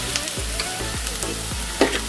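An onion masala mixture with salt sizzles steadily in a pan for baingan masala, with a spatula scraping through it in a regular rhythm about twice a second, close and loud, with no talking.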